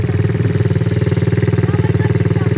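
A quad bike engine runs steadily up close with a fast, chugging pulse, revving slightly higher without pause; no talking over it.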